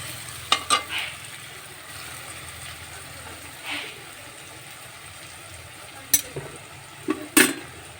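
Crushed garlic fries in a pan under a low, steady sizzle, broken by a few sharp scraping clicks of a spoon stirring against the metal.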